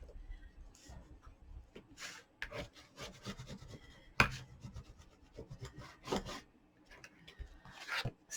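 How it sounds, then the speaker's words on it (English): Someone burnishes down the cover of a handmade journal, making a series of scratchy rubbing strokes of irregular length with brief pauses between them, close and moderately loud, without talking. "Burnish it down."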